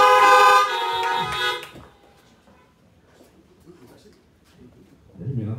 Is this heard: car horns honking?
yes